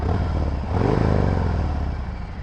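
A Harley Davidson Fat Bob engine idles with a low clattering rumble, then revs up briefly around the middle before settling back, loud and close with no voices.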